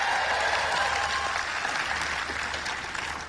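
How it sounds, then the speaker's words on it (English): A big summit audience in Bangkok applauds for teachers with a steady wash of clapping and some cheering, loud at first and easing slightly toward the end. "give a cheer for the teachers."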